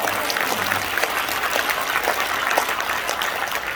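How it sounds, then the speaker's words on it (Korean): An audience at a Korean forum gathering gives a steady burst of dense applause, with many hands clapping at once for a few seconds. "하나님께 영광의 박수 올리겠습니다."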